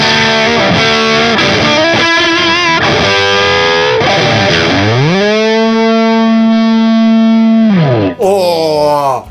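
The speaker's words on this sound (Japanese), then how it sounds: "ゲインとボリュームだけ、結構のぶとい感じのファズです。" A Stratocaster plays through a thick, fat-sounding fuzz pedal into a Marshall amp, loud and saturated, with a run of picked notes followed by a long sustained bend that slides down and up before a final burst.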